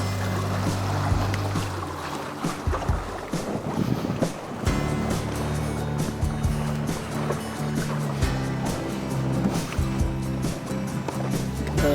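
A sailboat under full sail crosses a strait in good wind, with water rushing and splashing against the hull, wind noise and low steady hum, close and continuous without talking.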